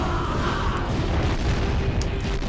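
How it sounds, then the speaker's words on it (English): Explosions in the Jak and Daxter video game produce a deep, rumbling boom with low-end roar that continues throughout, close and loud, with a faint tonal hum underneath. "they are going to explode"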